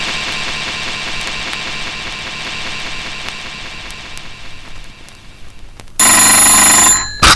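A telephone rings briefly and loudly near the end, following a long stretch of steady electronic hum and tones from a car or device.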